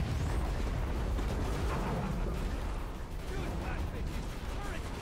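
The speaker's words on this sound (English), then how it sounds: "this turret fires slower and now probably does a little more damage" Turret fire in the video game War Machine, a dense continuous rumble of heavy shots and explosions, loud and sustained throughout with no clear gaps between rounds.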